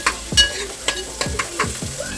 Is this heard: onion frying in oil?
yes